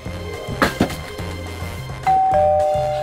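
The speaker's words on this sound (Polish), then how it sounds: "O, dzwonek, idziemy?" A doorbell in a home rings with a clear, sustained two-tone chime near the end, after a couple of dull thuds earlier on.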